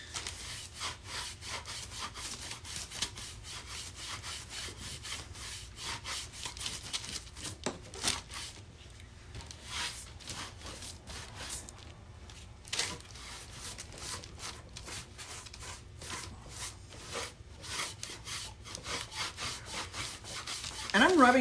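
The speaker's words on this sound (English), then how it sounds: "I'm rubbing back pretty hard because I want most of the stain to be lifted off" A cloth is rubbed hard across a stained wooden surface to lift the stain off, giving a steady, close scrubbing and swishing texture that runs continuously, with a few brief pauses and sharper strokes along the way.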